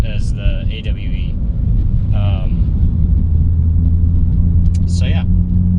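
Inside a Ford Focus ST with an aftermarket catback exhaust cruising around 2800 RPM, a steady low exhaust drone and road rumble run throughout, loud and constant, with brief squeaky chirps over it.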